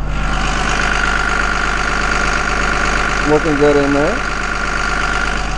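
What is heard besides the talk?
Cummins 5.9 liter turbo diesel bus engine running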